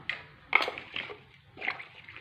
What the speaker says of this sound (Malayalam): ചട്ടിക്കിട്ട് വെള്ളമൊക്കെ പാർന്ന്